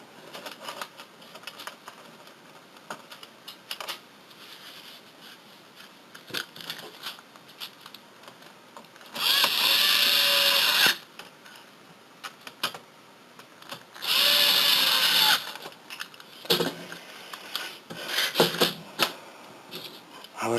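Two sustained bursts of whirring from a small power screwdriver driving screws into a PS3 Super Slim console, each lasting about a second and a half, separated by quieter handling clicks and rattles of the plastic casing.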